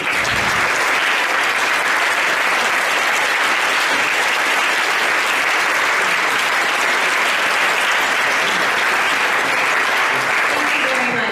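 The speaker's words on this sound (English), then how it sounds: "let's give you a round of applause too." Loud, sustained applause from an audience at a city climate action plan meeting, thick continuous clapping throughout with some voices mixed in.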